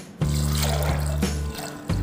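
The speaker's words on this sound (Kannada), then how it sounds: "ಇದಕ್ಕೆ ನೀರು ಹಾಕಬೇಕು" Water being poured into a pressure cooker over soaked chickpeas in a home kitchen: a steady, close splashing stream that breaks off briefly and then resumes.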